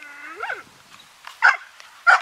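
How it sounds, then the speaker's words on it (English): A dog barks twice outdoors, sharp and close with a pause between barks, after a brief whining vocal sound. "listen to that bark."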